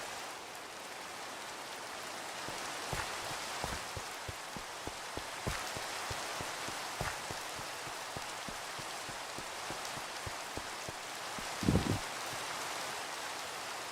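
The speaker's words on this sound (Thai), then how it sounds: "นอกฝนตก" Steady rain pours down in the Katha Village video game, a dense even hiss with scattered drop taps across the whole stretch and one brief thump near the end.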